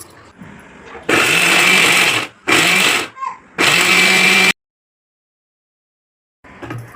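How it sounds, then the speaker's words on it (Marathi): A mixer grinder whirs loudly in three short bursts with brief pauses between, grinding soaked leftover roti, then falls silent. "त्याला मिक्सरला बारीक करून घ्यायचे."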